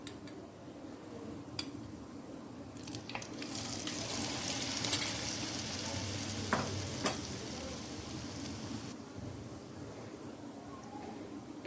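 Bread and egg snacks fry in a pan with a steady, close sizzle, punctuated by light clicks and scraping as pieces are moved and turned over a long stretch.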